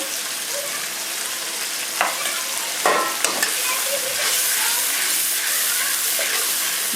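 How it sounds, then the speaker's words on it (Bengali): Fish with ginger and chili paste is sautéed in a pan for a spicy fish curry, loud continuous sizzling with a few sharper crackling bursts of stirring, close up and without talk. "ভালো করে মশলাটা একটু কষিয়ে নিই দিয়ে দিচ্ছি লঙ্কা বাটা"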